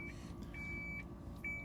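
A Lexus SC430 memory seat sliding backward lets out repeated high electronic beeps at a slow, regular pace, each about half a second long, faint over a steady low hum of cabin noise.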